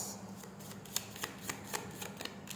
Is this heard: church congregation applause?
no